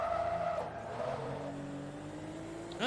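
Race car in Forza Motorsport 2 sliding after a light handbrake tap, a steady engine drone with tire squeal running under it, then a sharp rev climb at the end.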